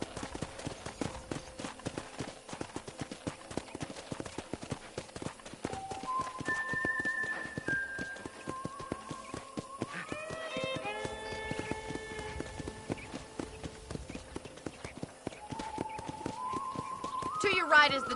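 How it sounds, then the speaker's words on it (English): Horse hooves clip-clopping in a steady run while riding through a ranch in the Red Dead Redemption video game, a continuous rhythmic patter under in-game music. "let's see if you can still ride a horse"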